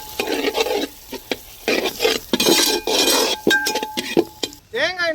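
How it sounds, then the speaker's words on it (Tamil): Grated coconut sautéing in oil in a pan for a chicken curry, with close, busy stirring scrapes and metal clinks over a soft frying crackle in short bursts. "தேங்காய் இன்னொரு 5 நிமிஷம் வதங்கினா போதும்"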